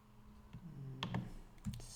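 Typing on a computer keyboard while writing Python code, a quiet, uneven run of a few distinct key clicks and taps spread across two seconds.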